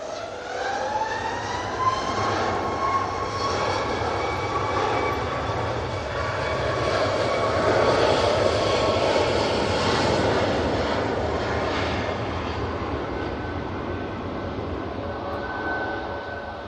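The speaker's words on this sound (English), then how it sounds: "So we've got this Ryanair 737 MAX 8 now coming onto the runway" A Ryanair Boeing 737 MAX 8 jet rolls onto the runway at Manchester Airport in a rising breeze, its engines a loud, steady roar with a whining tone that swells slightly and holds, with no voices.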